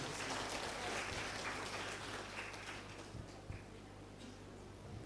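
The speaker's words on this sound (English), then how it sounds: "Let's give big applause to our presenter today." Faint, broad hiss of audience applause for a presenter at an international conference on Islam and education, fading slightly over five seconds with a soft thump near the middle.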